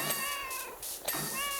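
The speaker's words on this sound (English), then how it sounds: "That's a cat." A cat meows clearly twice in quick succession inside a cleaning video game, each call a short, close, rising-and-falling mew.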